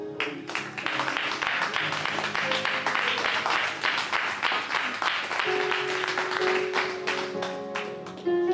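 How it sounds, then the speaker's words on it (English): A church congregation claps together after a prayer, steady rhythmic hand claps over sustained organ or keyboard tones, moderately loud and continuous throughout. "Would you give the Lord a hand clap?"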